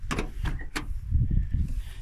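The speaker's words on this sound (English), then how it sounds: "The rear doors seem to close better than the front doors." Doors shutting on a 1953-54 Buick Special, three sharp thumps in the first second followed by a low creaking rumble, heard close with no talk.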